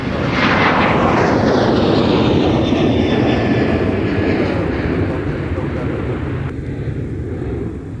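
An airliner at Minneapolis–Saint Paul airport roars loudly and steadily up close, a broad continuous engine rumble and whine that holds for several seconds and eases slightly toward the end, with no speech over it.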